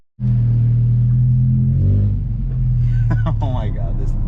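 A loud Honda Civic engine idles with a deep, steady rumble that dips slightly midway, then holds strong; a brief voice cuts in near the end.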